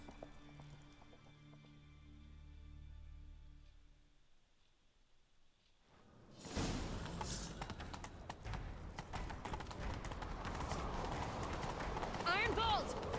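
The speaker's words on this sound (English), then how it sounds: "Grab a horse, we'll chase him down." Horse hooves galloping in Witcher 3: a quiet stretch with low tones gives way to a loud, busy rush of rapid hoof clatter and motion noise, continuing to the end.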